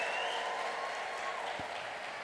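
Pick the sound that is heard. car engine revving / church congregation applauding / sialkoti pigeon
church congregation applauding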